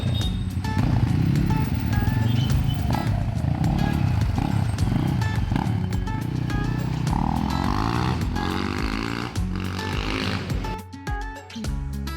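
Motorcycle ridden during test drives in Nepal, its engine drone loud and steady throughout with rising and falling revs, mixed with road and wind noise.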